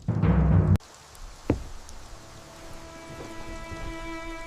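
A loud rumbling crash opens, then cuts off into a steady hiss of rain with faint distant cracks and a lingering low tone.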